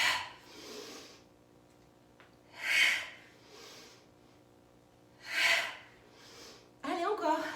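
Heavy exhaling during a HIIT cardio workout, with three strong breathy bursts spaced a few seconds apart, softer breaths between them and a brief voiced sound at the end.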